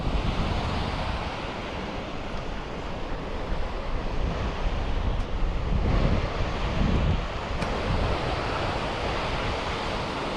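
Curragh Force waterfall pours steadily in a continuous broadband roar, close and loud, with a faint hiss of wind across the microphone and no voices.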